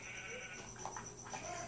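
A Minecraft sheep bleats faintly a couple of times against a low steady background hum, with no one talking over it.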